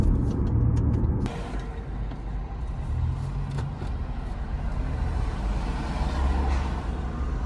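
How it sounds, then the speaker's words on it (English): Busy road traffic heard from inside a moving car in Africa, a steady dense rumble of passing cars, trucks and buses with a sharp air-brake hiss near the start, no talking. "So much traffic."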